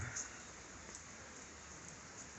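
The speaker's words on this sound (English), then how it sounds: "yeah, it's raining" Steady, faint rain falls outside with a soft, even hiss throughout, and no voices or other sounds stand out.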